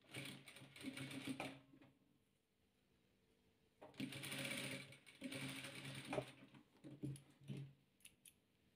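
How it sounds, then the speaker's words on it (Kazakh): Close sewing machine stitching patchwork triangles onto fabric pieces, running in two separate bursts with a quiet gap between them, steady mechanical whirring and clatter with no talking. "Енді жанына бүйтіп мына үшбұрыштарымызды осылай екеуіне де тігіп аламыз."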